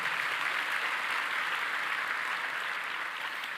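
Church congregation applauding during a Wednesday evening service, a steady dense wash of clapping that holds level throughout with no speech over it.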